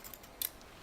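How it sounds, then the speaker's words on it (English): A single quick scissor snip cuts a piece of cotton bandage. It is brief and crisp against a quiet background. "We need to cut the piece of this bandage."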